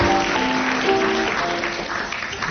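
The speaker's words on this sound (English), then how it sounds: "Give yourselves a round of applause" A radio panel-show studio audience applauds, a dense burst of clapping that carries at full volume and begins to thin out toward the end.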